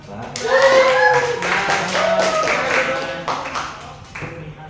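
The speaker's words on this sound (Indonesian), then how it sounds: "Beri aplaus dulu dong" A classroom group claps together after a microteaching lesson, a dense patter of many hands lasting a few seconds before fading, with a voice speaking over it near the start.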